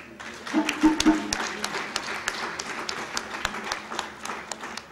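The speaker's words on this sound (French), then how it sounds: "je voudrais une motion vraiment d'applaudissement pour le maire" Scattered audience applause for the mayor at a partners' forum in Diamniadio, uneven and moderately loud with individual sharp claps standing out, and a short voice early on.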